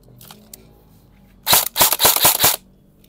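An E&C MK18 airsoft rifle test-fires out of the box: one sharp crack followed by a quick string of rapid automatic shots, loud and close, with faint clicks before.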